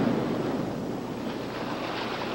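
Ocean waves breaking on the coast of Java, a steady rushing surf mixed with wind noise that stays at an even level throughout, with no voices.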